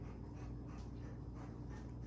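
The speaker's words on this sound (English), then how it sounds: "That dog needs a haircut in this summer heat." A dog pants in summer heat with quick, rhythmic breaths close by. The panting is faint and steady, with no voices.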